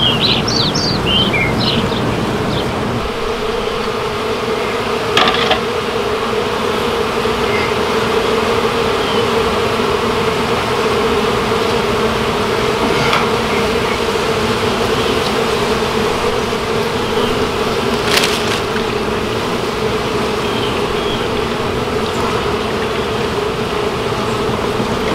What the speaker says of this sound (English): Female carpenter bee.